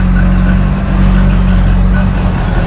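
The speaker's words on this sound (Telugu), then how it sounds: "పక్క నుంచి బైక్స్ వెళ్తున్నాయి" Motorbikes pass by on a street beside a construction site, a steady loud engine rumble with a low droning hum and slight swells, continuous throughout with no talking.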